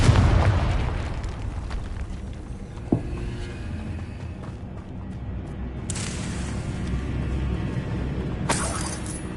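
Confringo, an explosive spell in Hogwarts Legacy, opens with a loud blast that rumbles down, followed by a sharp crack and later bright shattering hisses of debris, all without speech.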